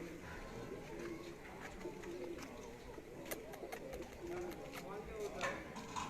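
Pigeons coo softly and repeatedly in the background while someone talks over them about a pigeon of good breed, at a pigeon keeper's compound in Gujrat.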